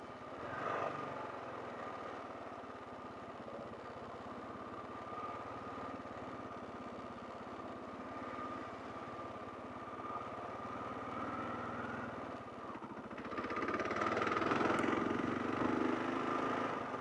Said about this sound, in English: that's a motorcycle there